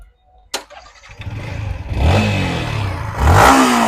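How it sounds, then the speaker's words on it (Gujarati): A brand-new Yamaha MT-15 motorcycle starts with a sharp crank after a quiet moment, settles into a rising idle, then revs up loudly and smoothly near the listener. "એન્જિન ચાલુ કરીને બતાવી દો મિત્રો."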